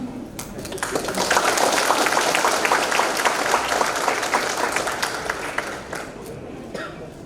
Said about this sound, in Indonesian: Anda harus tepuk tangan.